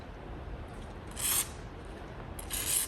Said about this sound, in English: I'm actually going to clean this up a little bit with the wire brush